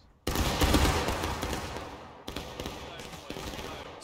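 A massed rifle volley crashes out at once on command in the Civil War battle game War of Rights, a loud dense burst that rolls and decays, followed by a few scattered later shots and rumbling echoes.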